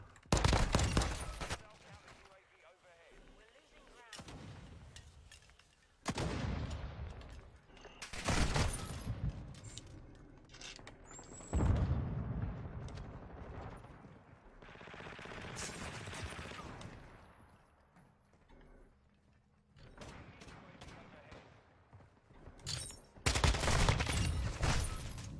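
Automatic gunfire from the video game Warzone comes in repeated bursts separated by quieter gaps, fairly loud against a muted background, with a voice heard faintly at moments.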